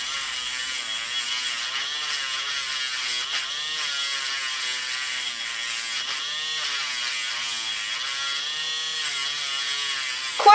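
An electric claw grinder filing a dog's front-paw claws, a steady high-pitched motorized whir running continuously and close up, with slight wavering pitch as it meets the nail and no talking.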